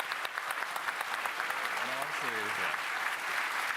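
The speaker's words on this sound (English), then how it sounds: "clap for yourselves or else" The show's team applauds at a Marathon reveal event, a steady patter of clapping from a group lasting a few seconds while a voice talks over it.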